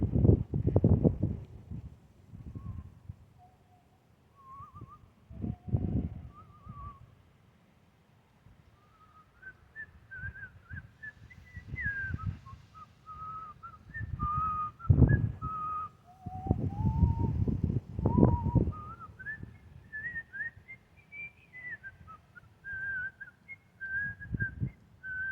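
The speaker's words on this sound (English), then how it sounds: "Hopefully YouTube doesn't pick that up enough to copyright me whistling" A person whistles a wandering melody outdoors in cold air, the tune running in bursts over a low rumble of wind buffeting the microphone.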